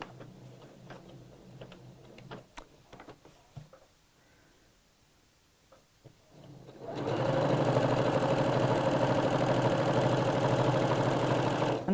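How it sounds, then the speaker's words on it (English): A sewing machine runs in a steady fast buzz while stitching around a vintage-style pocket seam, starting after several seconds of quiet handling clicks and rustles. "right from that mark, that seam, we're going to sew around the other side"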